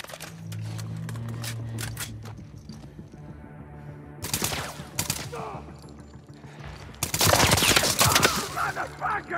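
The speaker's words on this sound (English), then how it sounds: "Assault rifle, baby." Assault rifle fire in The Last of Us Part II video game: two loud bursts of rapid automatic shots, the second longer and heavier, over a low ambient background with faint clicks.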